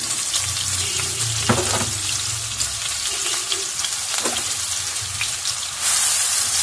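Onion hits hot oil in a pan for Egyptian koshari red sauce, giving a loud, continuous sizzle with a few sharp clatters of utensils. A brighter hiss surges near the end.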